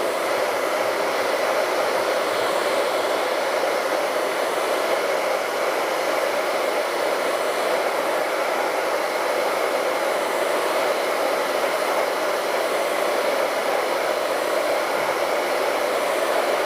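A hair dryer blows steadily over a freshly painted acrylic portrait, a loud, even whooshing hum that runs unbroken from start to end with no talking.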